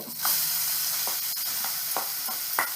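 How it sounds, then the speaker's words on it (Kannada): Onion, garlic and fresh coconut paste hits a hot pan and sizzles steadily, a close, bright frying hiss broken by a few soft stirring scrapes, with no voices. "ಬೆಳ್ಳುಳ್ಳಿ ಜೊತೆಗೆ ಈರುಳ್ಳಿಯನ್ನು ನಾನು ಪೇಸ್ಟ್ ಮಾಡಿದ್ದನ್ನು ಹಾಕ್ತಾಯಿದ್ದೀನಿ"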